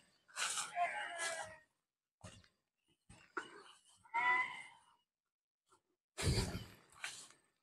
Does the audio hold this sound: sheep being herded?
yes